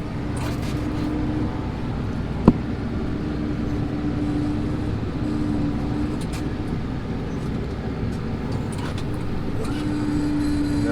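A tractor backs up at a field headland while ploughing, its engine a steady low drone running throughout at moderate level, with a single sharp click partway through.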